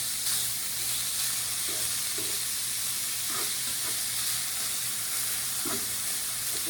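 Ground meat browning for taco filling sizzles steadily in a hot pan, a dense continuous fry with occasional soft stirring scrapes, close and alone without talk.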